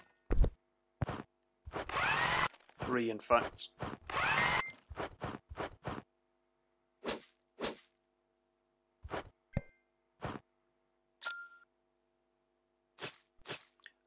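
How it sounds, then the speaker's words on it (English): An electric screwdriver in the House Builder game drives screws into a roof, heard as a series of short whirring bursts separated by silences, with a brief spoken remark partway through. "or you can use what we've got now, the electric screwdriver"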